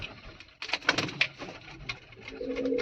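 Pigeons in a home loft coo at close range, low throaty calls starting after a brief quiet moment and repeating unevenly, with a soft rustle and shuffling around them.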